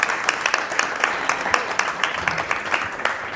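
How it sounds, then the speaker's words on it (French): Audience applause at a conference opening session, a steady patter of many hands clapping at moderate loudness, with faint voices mixed in. "Oui, vous pouvez l'applaudir."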